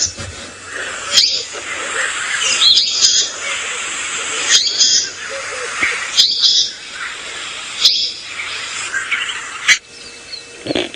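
A flycatcher call played loudly through a phone bird app during a sunrise safari drive: repeated bright, high chirping bursts in several phrases with short pauses, close by, over soft outdoor ambience.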